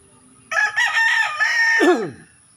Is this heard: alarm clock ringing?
no